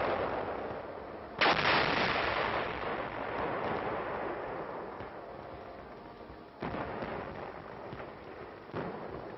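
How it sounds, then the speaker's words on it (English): A big artillery gun fires in winter on the Korean War front. Deep, rumbling booms come at intervals, one sharp and prominent and the others duller and more distant, over a steady muffled background. "there's plenty of ammunition here to keep this big gun firing"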